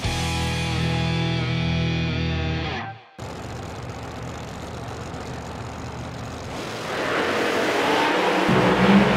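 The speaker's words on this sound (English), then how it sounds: "career best right there for Kurt Stedding, 197 miles an hour, going to move on to the final round" A Pro Boost drag racing car on the strip: a loud, harsh, buzzing engine roar that cuts off abruptly, then a rougher, noisier roar that swells toward the end.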